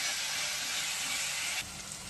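A paste of ginger, garlic, green chili and coriander fries in a pan for a crab masala, with a loud, steady, close sizzle and hiss that drops slightly near the end, with no talking.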